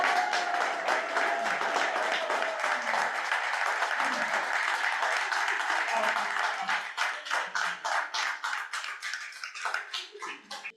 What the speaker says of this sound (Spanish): ¿Qué les parece si honramos el nombre del Señor con un aplauso fuerte?